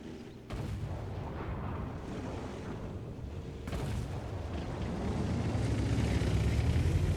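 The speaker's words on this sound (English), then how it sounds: "There goes artillery, so I know where they are." Distant artillery booms in a tank battle game, heavy low rumbling blasts that start abruptly and roll on with a second impact midway, building in loudness under constant battlefield noise.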